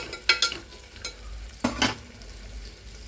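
Vegetables and green chillies fry in a cooker for vegetable pulao. A soft sizzle runs underneath several sharp clattering stirs, with two bursts near the start and two more in the middle.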